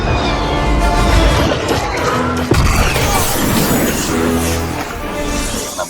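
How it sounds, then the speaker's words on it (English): An Imperial docking yard crashes down onto a planet in a Star Wars Squadrons cinematic, a dense, loud roar of rumbling destruction with heavy crashes and impacts sweeping through the whole stretch. "we've got an Imperial docking yard crashing down on a planet around us as you dogfight"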